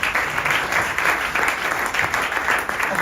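Congregation applauding during a Sunday church service, a dense, continuous wash of many hands clapping close by, steady and loud throughout the short moment.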